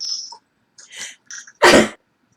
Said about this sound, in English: Oh gosh, I gotta sneeze.